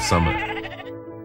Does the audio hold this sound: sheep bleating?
yes